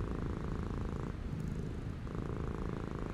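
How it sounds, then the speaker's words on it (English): A cat purring while held and stroked in a woman's arms, a close, loud, continuous rumbling purr with a steady rhythm and no voices. "the cat purrs in her arms, and she can feel that purring reverberating through her arms"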